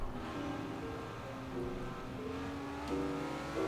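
An S1 class sports car with a front engine accelerates in the racing game Forza Horizon 4, its engine note droning steadily and rising through gear changes, moderately loud with no talk.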